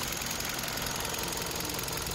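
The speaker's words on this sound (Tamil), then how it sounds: "பெட்ரோல் இன்ஜினா இதுதான் சார். எவ்வளோ ஸ்மூத்னஸ் பாருங்கள்." A 2018 Hyundai i20 Asta petrol engine running steadily at idle, a dense, even mechanical hum with a fine rapid ticking texture, heard up close, constant in level throughout and with no talking.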